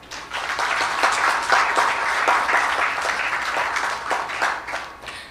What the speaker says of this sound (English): Can we at this time please have a hearty round of applause for everyone?